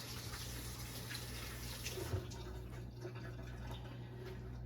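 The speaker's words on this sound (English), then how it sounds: "Wash my hands just real fast." Water runs steadily from a kitchen tap during a quick hand wash between casserole cooking steps, a constant close wash of flow with no talking.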